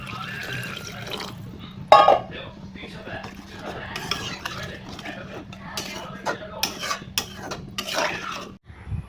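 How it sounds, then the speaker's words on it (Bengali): Water is poured into a pot of vegetable curry with sautéed spices to make the broth, a steady liquid wash with occasional clinks of a spoon or pan, up close and moderately loud. "এখন আমি ঝোল দিচ্ছি, মানে জল দিচ্ছি।"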